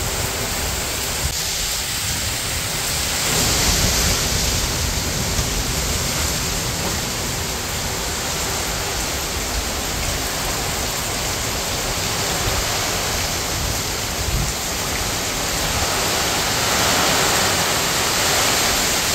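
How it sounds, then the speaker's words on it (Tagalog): Heavy typhoon rain lashes a home terrace at night while wind drives it in a dense, continuous hiss, loud and steady throughout with slight surges, and no one speaks. "Grabe, lakas po ng ulan at hangin."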